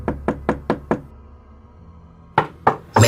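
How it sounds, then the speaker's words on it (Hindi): Knocking on a bedroom window at night, a quick series of five sharp raps, a pause, then three more loud knocks, close and crisp against a quiet room. "तभी किसी ने अचानक मेरे कमरे की खिड़की खटखटाई।"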